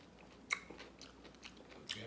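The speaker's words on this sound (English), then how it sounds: "Let me take a bite here." Someone bites into a turkey ham and cheese sandwich, making a few faint, quiet crunching bites with soft chewing in between.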